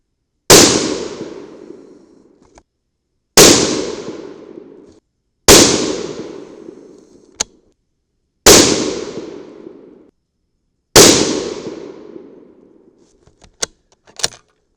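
Five loud, sharp shots from a Tikka .308 Win rifle firing 145gr Lehigh Defense bullets ring out outdoors, evenly spaced about two to three seconds apart, each followed by a long echoing decay.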